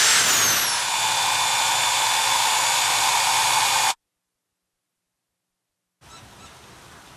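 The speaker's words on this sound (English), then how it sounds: "Use a 7/16 drill bit." A power drill with a 7/16 drill bit bores a hole for a pressure gauge tap on pool heating plumbing: a loud, steady whine for about four seconds, a pause of silence, then the motor runs again.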